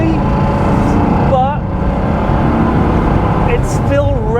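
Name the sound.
Porsche 912 engine revving while driving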